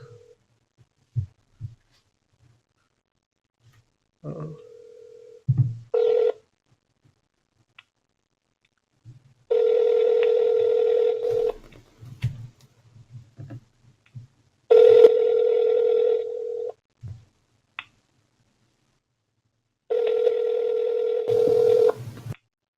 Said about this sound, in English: I will give him another call just to see what happens